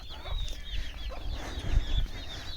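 Chickens cluck softly and repeatedly nearby, with a few higher calls over a low background rumble.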